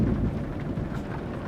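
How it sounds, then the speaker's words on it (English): Rain and rolling thunder from the Euro Truck Simulator 2 driving game, a steady low rumble with a wash of rainfall throughout, fairly quiet and with no talking. "it's raining right now for me"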